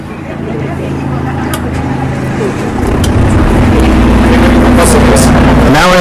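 A generator on a medical van starts up and settles into a steady running drone, its low hum rising in loudness and filling the background, with some mechanical clatter near the end.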